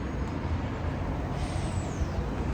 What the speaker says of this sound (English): There's noisy cars.